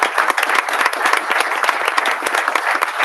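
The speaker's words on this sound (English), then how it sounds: "We can give him a nice round of applause in the beginning and the end." Steady applause from the audience at a township committee meeting, many hands clapping densely and continuously throughout at a fairly loud, even level.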